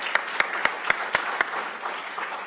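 A lecture audience at a health talk on stroke management applauds, a soft steady wash of hands with several sharp, evenly spaced claps standing out, fading slightly toward the end.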